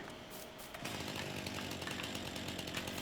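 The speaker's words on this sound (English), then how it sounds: "It's our chainsaws." A chainsaw engine in the video game Farming Simulator 19 revs up partway through and keeps buzzing loudly and steadily until the end.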